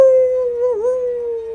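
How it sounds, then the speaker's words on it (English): In a video game, a wolf gives one long, steady howl that dips slightly in pitch midway. It is loud and close, with no talk over it. "You guys are welcome to pet my wolves if you like."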